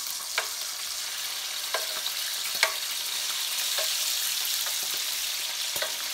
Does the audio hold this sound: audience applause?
no